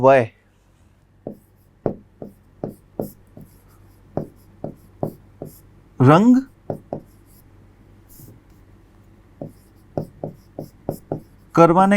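Chalk or marker strokes during a Class 10 maths lesson on surface area and volume: short, separate scratchy taps in uneven bursts, fairly close, with a teacher's voice speaking in between.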